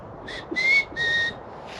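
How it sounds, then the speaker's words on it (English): Two rising whistles from a person, each lasting a few tenths of a second, over faint outdoor background noise. "I'm just giving him a little whistle."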